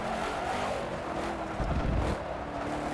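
Engine drone of a race car running a timed lap in a racing video game, a steady continuous roar with a brief rough burst midway, no talking.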